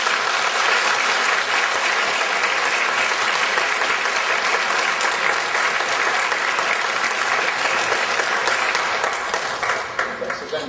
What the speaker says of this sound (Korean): 같이 박수로 힘내주시고